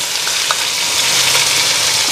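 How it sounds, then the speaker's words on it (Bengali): Food frying in a pan in a home kitchen, a loud close sizzle that hisses steadily with a few small crackles and stirring sounds. "এদিকে ভাজাটা বসাই দিলাম,"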